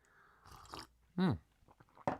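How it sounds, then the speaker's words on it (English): A person slurps from a cup of tea in a few short, wet sips, one louder, close slurp among quieter mouth sounds. "Sorry about the slurps"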